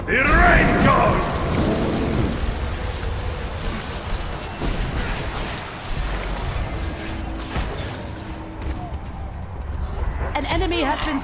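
Rain and thunder ability of the god Chac in the Smite video game, opening with a loud booming thunder rumble over steady rain hiss, followed by game announcer-style voice and battle effects.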